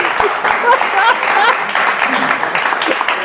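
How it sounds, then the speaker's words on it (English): Audience applause breaks out after a coaching exercise, a steady, dense wash of clapping from a room of people for a few seconds, with some talking mixed in. "give her a round of applause"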